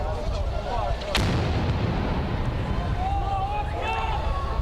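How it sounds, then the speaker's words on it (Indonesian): Israeli rockets strike a public facility building in Gaza, and a sharp blast is followed by a low rumble over continuous noise. Voices shout under the explosions. "Dentuman suara ledakan terdengar keras saat roket-roket Israel mengenai sebuah bangunan fasilitas publik di Gaza"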